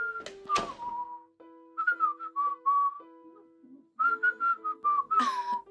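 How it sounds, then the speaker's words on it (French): A man whistles a cheerful melody alone, clear and close, in short phrases with brief pauses between them. "Ok, pourquoi est-ce que tu sifflotes?"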